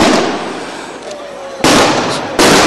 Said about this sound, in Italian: In sottofondo sentite ancora gli spari dei fuochi d'artificio